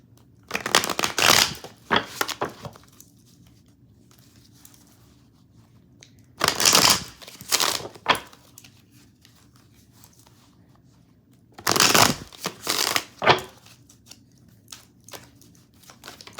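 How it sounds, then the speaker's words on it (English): Three bursts of crisp riffling and snapping as a deck of tarot cards is shuffled, each flurry followed by quiet pauses. "Shuffle these up good."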